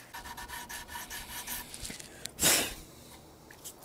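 Sanding block wrapped in 320 grit sandpaper rubbed across electric guitar wood, giving soft repeated rasping strokes up close with one louder, brighter scrape partway through.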